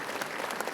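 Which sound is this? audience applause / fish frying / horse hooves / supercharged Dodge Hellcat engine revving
audience applause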